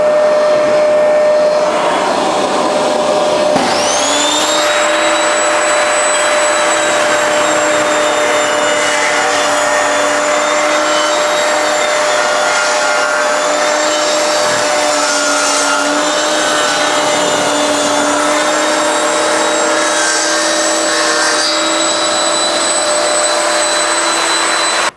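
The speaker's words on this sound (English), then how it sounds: "But as soon as you put the vacuum back on again, it stops all the dust" A V-Tuf Mini X2 M-class dust extractor switches on and runs loud and steady with a constant whine, joined by the drone of a circular saw table motor.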